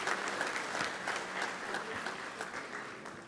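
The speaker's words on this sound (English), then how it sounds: "another round of applause, please. A massive one." Gala dinner audience gives a round of applause during a charity auction, a dense wash of clapping from a large room that stays steady and gradually eases off.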